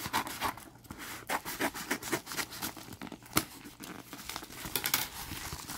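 A mail package is cut and torn open with scissors, giving close, irregular crinkling, snipping and tearing of paper and plastic packaging with light scrapes.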